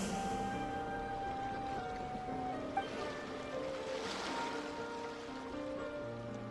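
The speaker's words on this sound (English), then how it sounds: "Go to where you can hear the sound of the waves." Ocean waves in the video game Genshin Impact, a continuous soft wash of surf under faint musical tones, quiet and steady throughout.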